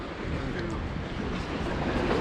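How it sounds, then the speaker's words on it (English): Lake waves washing on the Door County, Wisconsin shoreline make a steady broadband rush with wind buffeting the microphone, a continuous wash with no distinct breaks. "Love the sound of the waves though."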